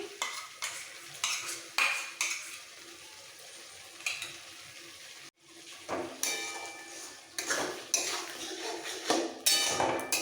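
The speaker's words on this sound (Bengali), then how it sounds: "একটু ফেটিয়ে নেব ফাটানো টক দইটা দিয়ে দিচ্ছি" Sour curd being whisked and stirred into a pan for jackfruit kalia, with repeated scraping and clinking of a utensil against metal, a brief pause midway, then brisk stirring again, close and fairly loud.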